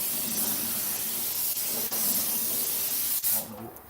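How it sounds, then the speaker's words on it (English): A continuous hissing spray from an aerosol can, close and steady for several seconds, with a couple of brief breaks before it tapers off. "I'm just spraying this thing"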